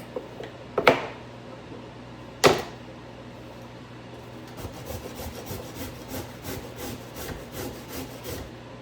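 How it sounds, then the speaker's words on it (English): A carrot is rubbed against a grater for a salad, giving rapid, rhythmic scraping strokes after a couple of sharp knocks, fairly close and alone. "Gonna grate up the other carrot to go in salad."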